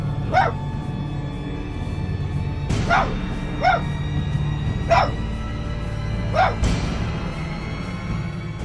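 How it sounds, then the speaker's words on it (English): A frightened dog barks in a series of sharp, separated yelps against a steady low hum, roughly six barks spaced unevenly over several seconds, moderately near. "It's at that exact moment when it appears that the dog's barking intensifies, and you can even hear the fear in it."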